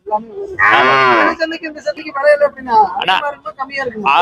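A cow moos loudly and close at a busy cattle market, one long drawn-out call, followed by people talking and general crowd noise.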